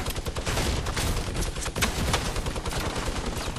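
Rapid, sustained gunfire from a Fortnite match, loud bursts of shots crackling almost continuously with no talking over them.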